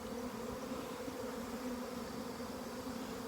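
Thousands of swarming bees crawl and fly over the ground, giving a thick, unbroken buzzing drone that stays steady and near.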